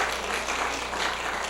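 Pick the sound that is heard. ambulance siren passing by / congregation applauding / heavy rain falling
congregation applauding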